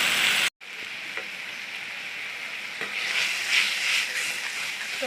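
Spices for a desi chicken curry frying in a pan make a steady, close sizzle, broken by a brief silent gap near the start and swelling slightly louder toward the end.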